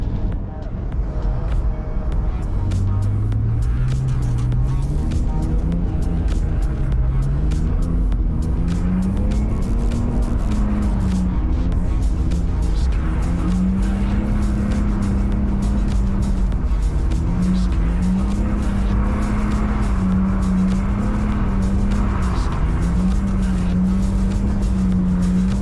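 A BMW E46 engine drones loudly and continuously while drifting on snowy roads, its pitch rising and dipping as revs shift through slides, with occasional voices talking over the steady roar.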